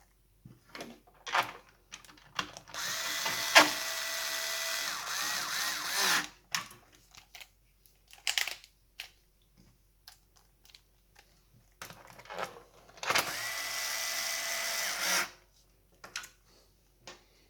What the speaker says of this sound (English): I do have this set to a very low torque setting. It is screwing into metal nuts, so it should be relatively strong